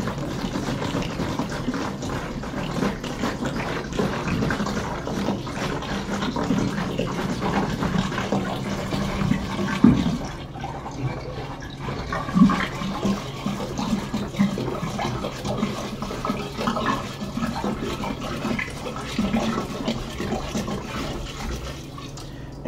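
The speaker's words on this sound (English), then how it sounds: "So we're going to add 1 gallon of cold refrigerated water." A gallon of cold refrigerated water is poured into a beer-brewing keg, giving a continuous, moderately quiet rush and splash of liquid with a few louder bumps partway through.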